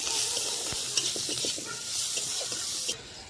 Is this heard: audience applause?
no